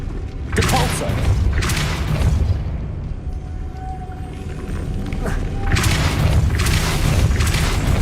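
In the Hogwarts Legacy video game, the Depulso spell is cast, producing heavy booming magical blasts with deep rumbling thuds and bright bursts, loud and close, alongside a game character's voice.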